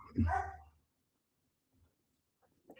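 A dog gives a single loud, close bark, and only faint scattered sounds follow it in an otherwise quiet room.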